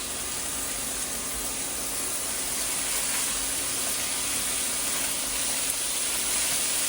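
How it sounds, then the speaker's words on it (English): A constant, dense hiss of sizzling fills the whole stretch as steak sears in a hot frying pan, with no voices. "got a nice sizzle"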